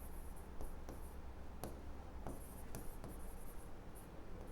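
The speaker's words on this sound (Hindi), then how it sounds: "इसको यहां लिखता हूं" Someone writing on a board during an English lesson: faint, intermittent scratchy strokes and taps at close range over a quiet hum, with no talking.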